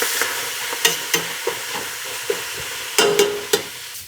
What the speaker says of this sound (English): I'm just gonna saute these.